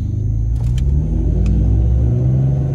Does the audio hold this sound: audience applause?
no